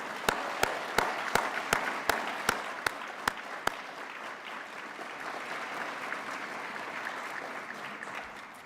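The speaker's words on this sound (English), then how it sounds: "can I ask all of you to give yourselves a really big round of applause" An awards ceremony audience in Newcastle bursts into applause. A run of sharp, evenly spaced loud claps opens over the crowd, which settles into steady, dense clapping from a large hall.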